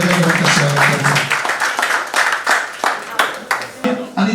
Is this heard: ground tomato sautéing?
no